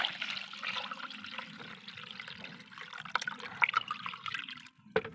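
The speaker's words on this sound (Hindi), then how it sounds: "तो चलिए इसमें पानी डाल देते हैं।" Water poured into a garden plant pot, a continuous trickling and splashing stream with scattered drips, heard close and alone.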